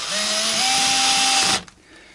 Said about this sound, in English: we'll just get this, all these pickguard screws tacked back into place, make sure it's all nice and flat